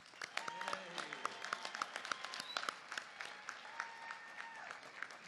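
A Central Arizona College spring graduation crowd applauding the graduating class, with scattered, uneven clapping and occasional whoops and cheers heard from a distance, fairly faint and thin rather than a full roar.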